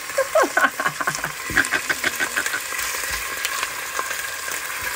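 Meat dropped into a hot pot of oil for a palm-nut sauce graine, giving a loud crackling sizzle with sharp spits and pops that settle into a steady fry; no talking.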